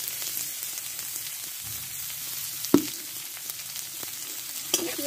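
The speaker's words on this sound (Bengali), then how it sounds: "পেঁয়াজটা ভালো করে ভেজে নেবো একটু" Chopped onion fries in oil with cumin seeds and a bay leaf in a pan, a steady close sizzle punctuated by a couple of sharp spatula knocks against the pan, with no talking.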